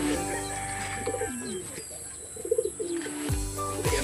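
A racing pigeon coos softly after returning home to its loft following a hard race in Paniqui, Tarlac, a few short burbling coos heard fairly close amid a faint outdoor background.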